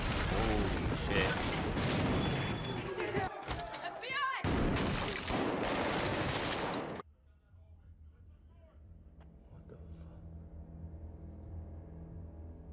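Heavy gunfire in a scene from the film Sicario: dense, loud bursts of shots and booms for about seven seconds, then an abrupt cut to a quiet, low ambience.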